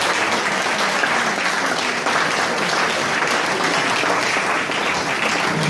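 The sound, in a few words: audience applause welcoming the Orchestra Popolare Sarda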